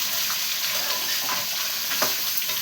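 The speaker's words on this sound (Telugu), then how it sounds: "చాలా అయింది ఫ్రై చేసి" Carrots fry in a pan with a steady, close sizzle and crackle, a few louder pops and stirring scrapes breaking through the continuous hiss.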